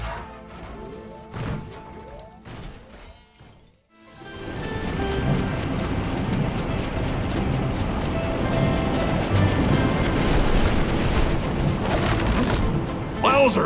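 Steady, dense rumble of a ship's engine in Skylanders: Giants, starting after a short gap of quieter game sounds and holding loud and continuous to the end, with speech on top.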